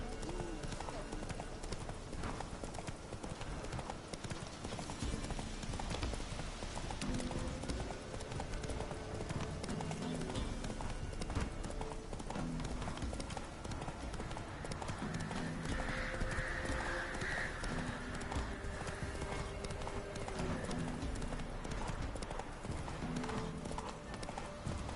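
Hooves of Roach, Geralt's horse in The Witcher 3, clip-clop in a steady galloping rhythm throughout, close and prominent over game music and ambient sound, with a voice speaking at moments.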